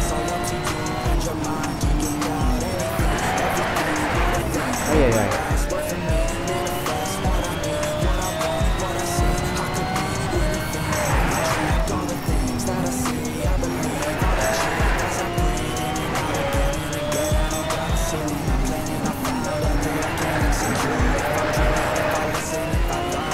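Racing car drifting in Need for Speed Shift, engine droning steadily with repeated bursts of tire squeal as it slides through corners, loud and continuous, with a voice speaking briefly over it.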